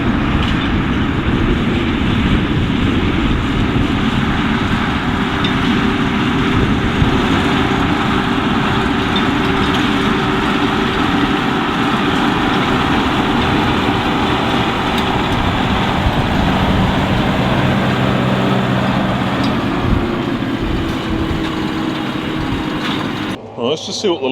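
Kioti HX tractor engine pulling steadily uphill with a power shift transmission, a loud continuous low drone that holds level throughout before dropping off at the very end.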